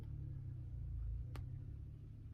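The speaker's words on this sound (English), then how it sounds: "I was just listening to the car outside." A car passing by outside, a faint low rumble of its engine heard steadily from a distance, with a brief sharp click partway through and no talking.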